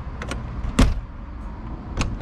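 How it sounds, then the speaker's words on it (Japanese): The screen door of a small Jayco Jay Flight 154BH travel trailer closes with a sharp clack, followed by a few quieter knocks and rattles against a steady low outdoor hum. "次開けると自動でここくっつくっていう優れもののドアになってます"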